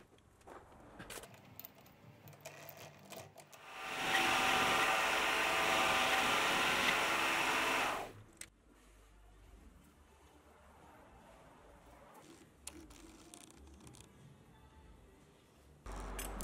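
A metal lathe turns a shaft to diameter, giving a steady, loud whirring hiss for about four seconds mid-way, framed by quieter workshop rustle and faint handling noises.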